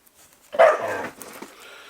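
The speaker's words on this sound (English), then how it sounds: "the dog is angry at a cat." A dog barks angrily at a cat with one sharp, loud bark, then gives softer yelping and whining sounds. No one talks.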